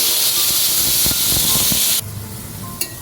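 Water poured into a hot pan of frying okra and potatoes seasoned with turmeric sets off a loud, dense steam hiss that fills two seconds, then drops abruptly to a quieter simmering crackle with a brief flare near the end.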